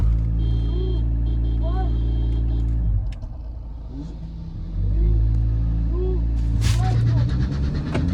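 A Mahindra Scorpio N diesel automatic and a Suzuki Swift drag racing: a loud, steady engine drone from inside one car, dipping briefly and then rising again as it accelerates, with someone talking excitedly over it.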